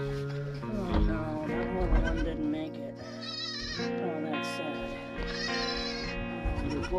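A newborn Kinder goat kid bleats repeatedly and loudly up close, with wavering cries, while a person talks nearby.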